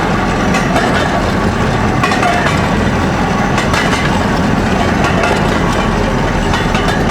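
An old pionerka rail handcar rolls along worn, neglected railway track toward a ruined bridge, giving a steady, loud rumble with rattling clatter throughout and no speech.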